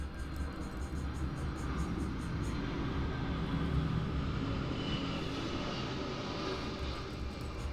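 An airplane flying close overhead near an airport: a steady, heavy engine roar that holds for several seconds, loud and continuous with no talking.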